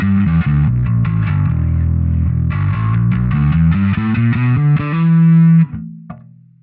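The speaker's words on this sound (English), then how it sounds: "So here's what the P pickup sounds like." An electric bass guitar played through its P pickup, loud, with a run of distinct plucked notes and a driven, distorted edge, ending on a held note that cuts off and fades.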